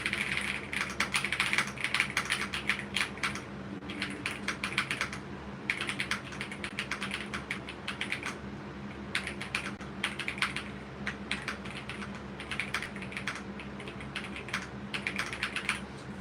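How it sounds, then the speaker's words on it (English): Typing on a Royal Kludge R65 65% keyboard with cream switches: rapid, close keystroke clicks in irregular bursts with short pauses, steady and moderately loud, with no talking. "I just typed"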